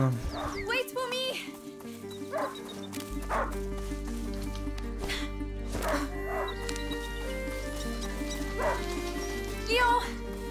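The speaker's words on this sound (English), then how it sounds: "Это собака." A hunting dog barks in the video game A Plague Tale: Innocence. Several sharp, close barks and yips come at irregular intervals over a low droning game score, with voices talking now and then.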